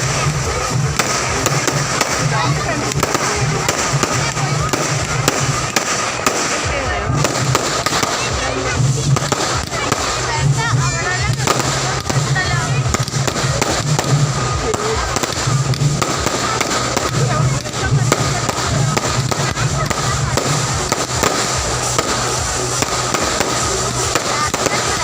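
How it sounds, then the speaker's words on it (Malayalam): Fireworks at a festival in Kerala: a dense, unbroken stream of crackling bursts and pops over a low rumble, loud and steady throughout, with faint voices in the background. "വെടിക്കെട്ടുമുണ്ടായിരുന്നു."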